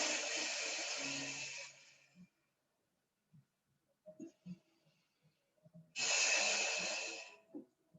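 Two long, forceful exhalations during yoga breathing practice, loud and close, separated by a quiet gap with faint small breaths and rustles.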